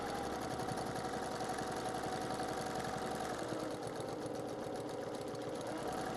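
A sewing machine runs continuously during free motion quilting, a steady fast mechanical hum and rapid stitching chatter at low level without pauses.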